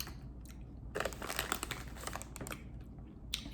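Pickle-flavoured crisps from an Irish snack bag are crunched and chewed close to the mic in loud bursts, with some crinkling of the packet between bites.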